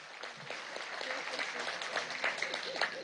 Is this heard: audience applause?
yes